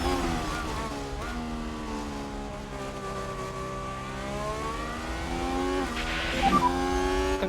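Pack of F1 cars in the F1 Manager 22 video game pulling away at a Hungarian Grand Prix race start, a dense layered engine whine rising steadily in pitch as the field accelerates, continuous and loud throughout.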